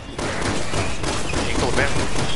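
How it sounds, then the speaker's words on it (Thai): Rapid bursts of gunfire from the video game Resident Evil 6, loud and near, with dense, overlapping shots that start abruptly and continue without pause, mixed with game sounds and a voice underneath. "ยิงตูดแม่ง"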